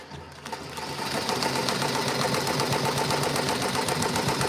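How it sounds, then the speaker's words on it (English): An embroidery sewing machine stitches a placement run at reduced speed, a steady fast mechanical chatter that starts softly and holds close and even throughout. "run it down to 500, and then run a placement stitch on this thing"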